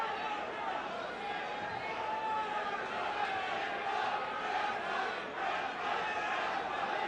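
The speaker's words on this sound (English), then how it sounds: "Crowd starting to chant, Shamrock, Shamrock." Arena crowd at an early UFC event chanting a fighter's name, a continuous loud roar of many voices with rhythmic swells, a commentator's voice partly over it.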